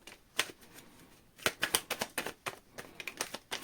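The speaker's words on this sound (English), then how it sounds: "Feel like I need to shuffle one more time." Tarot cards are shuffled close up in quick, crisp riffling bursts, quiet at first and then a rapid run of papery flicks, with no speech.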